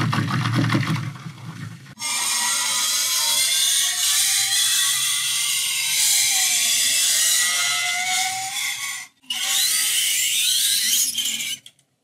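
Dry ice pressed against a small metal whisk makes a loud, shrill vibrating screech with wavering whine-like tones, sustained for several seconds, breaking off briefly and resuming, after a short lower rumble at the start.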